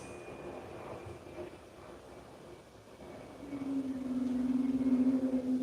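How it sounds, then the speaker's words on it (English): A train rumbles along the rails, and partway through a rising metallic squeal of wheels on track grows louder and steadier. "Y'all hear how them train tracks is creaking like that?"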